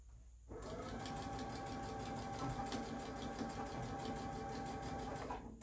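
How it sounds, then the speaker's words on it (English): Steady, continuous whir of a sewing machine stitching a back-stitched seam on a water bottle holder, starting after a brief quiet moment and running evenly at close range until the end. "Back stitch, and we're just going to keep sewing right across"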